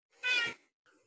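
A single short, bright cat chirp, close and clear, followed by a faint softer trill a moment later.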